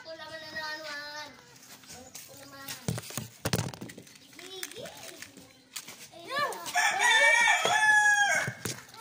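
A rooster crows loudly toward the end, its call rising clearly over children's chatter, people talking and assorted clatter in a lively outdoor setting.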